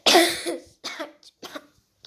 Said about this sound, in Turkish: Giderken öksürüm değişik.